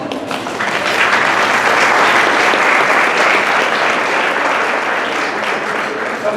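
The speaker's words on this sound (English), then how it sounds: "Give yourselves a round of applause." A crowd at an evening honors ceremony breaks into a loud, sustained round of applause that swells within the first second and holds dense and steady, with faint voices mixed in.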